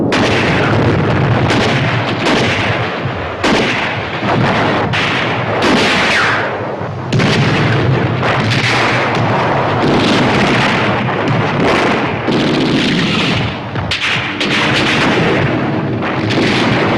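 Heavy 88mm cannon blasts from Tiger tanks boom again and again, loud and close, their rumbling echoes running into one another in a continuous barrage.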